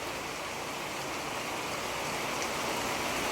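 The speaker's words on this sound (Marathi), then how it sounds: "तर पाऊस सुरू झाला आहे" Steady monsoon rain falls at night in coastal Konkan during fishing, a dense, even hiss with no breaks or voices, like a downpour heard from nearby.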